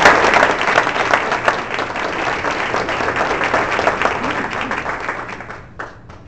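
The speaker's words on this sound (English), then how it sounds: "Give them a round of applause." Audience at a meeting applauding contest participants, a dense round of clapping that starts strong and gradually tapers off over about six seconds, ending in a few scattered claps.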